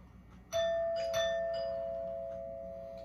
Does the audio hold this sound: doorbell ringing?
yes